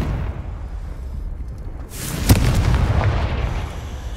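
Confringo blasting spell from Hogwarts Legacy: after a quiet stretch, a single sharp explosive boom bursts out, followed by a rumbling, crackling tail that lingers for a couple of seconds.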